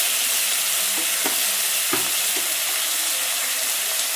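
Tomato and tiger prawns fry with onion in a pan, giving a loud, dense, continuous sizzle up close, broken by a few soft stirring knocks.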